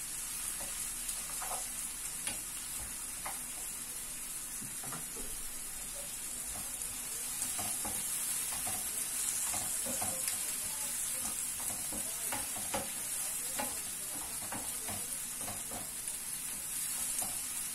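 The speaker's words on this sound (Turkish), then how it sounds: "Kavrulana kadar karıştırıyorum." Ground meat browning in butter in a pan for a potato and eggplant dinner, a steady soft sizzle with occasional scrapes and clinks of a spoon stirring, close and continuous with no talking.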